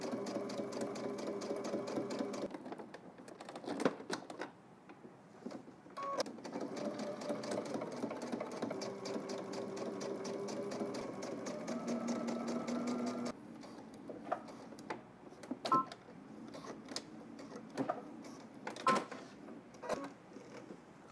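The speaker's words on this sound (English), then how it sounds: "we're going to edge stitch right along the fold." A sewing machine edge stitching along a fold of fabric, running in long close whirring bursts with brief stops and restarts, no voices.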